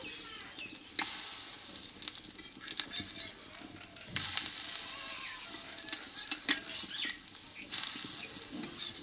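Steady oily sizzling of a wheat-flour flatbread frying in a pan, with occasional clinks and stirring noises; no talking.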